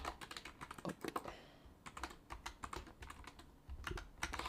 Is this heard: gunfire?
no